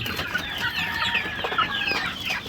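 Native and game-breed chickens on a poultry farm clucking in overlapping, busy calls, moderately close, with no talk over them.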